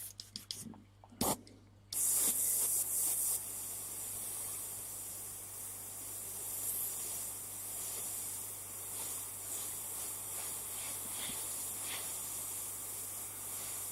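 Aerosol spray paint hisses in short bursts and a steadier stream while dark violet is added between water ripples on a custom painted piece, with a faint voice at moments.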